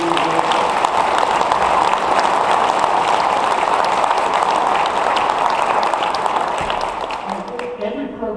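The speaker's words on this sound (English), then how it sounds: "Can we give them a round of applause for 4 years?" An audience at a National Fire Academy executive leadership graduation ceremony claps in sustained, dense applause that fades slightly near the end.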